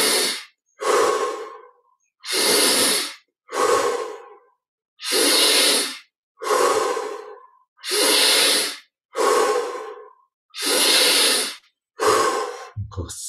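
Slow, deep breaths during guided meditation, each long airy inhale or exhale separated by brief silences, about ten in a steady, unhurried rhythm, close and loud with no talking.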